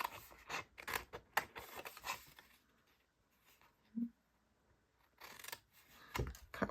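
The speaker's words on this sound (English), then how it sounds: "Cut up to the second score line on both score lines over here." Scissors snip through paper along score lines to shape a box template for a Christmas paper-stamping craft, giving quiet bursts of crisp cutting with a pause in the middle before the snipping resumes.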